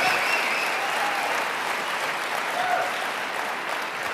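An audience at a motivational speaking event claps in a steady, sustained roar of applause, evenly loud from start to finish with no talk standing out.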